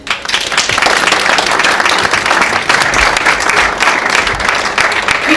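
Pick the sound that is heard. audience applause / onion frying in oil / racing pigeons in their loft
audience applause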